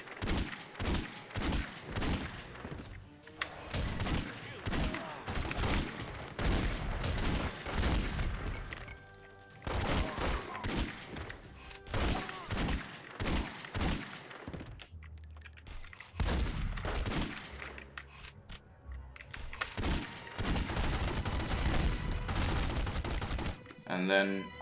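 Gunshots in The Godfather video game, a long run of sharp, evenly spaced shots fired close by, with brief pauses between clusters and a speaking voice partly underneath.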